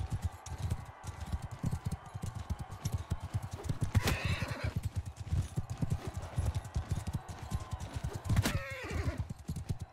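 Horse in the Mount and Blade Bannerlord video game galloping with rapid, continuous hoofbeats and neighing loudly twice, amid busy battle noise.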